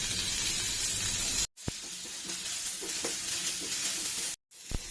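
Onions hit hot oil in a pan and sizzle with a steady, quiet hiss, broken by two brief silent cuts.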